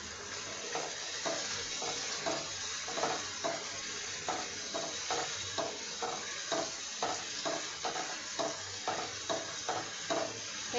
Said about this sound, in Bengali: এইভাবে ভালোভাবে কষিয়ে নিতে হবে মশলাটা